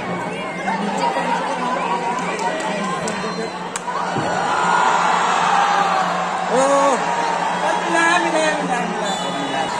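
Supporters cheering and chattering at a college football tournament final at St Xavier's College, Ranchi, a dense crowd roar that swells in the second half, with shouts and whoops over it.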